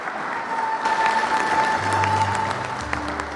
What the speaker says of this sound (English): I think we need to clap for ourselves.